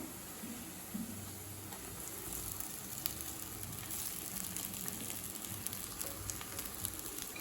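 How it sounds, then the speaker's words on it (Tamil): Three cups of cooked rice go into a hot pan for cauliflower fried rice, giving a steady, moderate sizzle and frying crackle throughout with no talking. "இப்போ 3 கப் சாதத்தை சேர்த்துக்கிறேன்."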